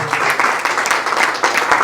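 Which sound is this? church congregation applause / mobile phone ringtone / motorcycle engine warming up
church congregation applause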